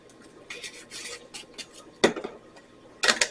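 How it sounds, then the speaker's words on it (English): Butter is stirred together with seasoning salt in a bowl for a Thanksgiving dinner, giving bursts of scraping and clinking of a utensil against the dish with short pauses between them. "we're going to mix this all together"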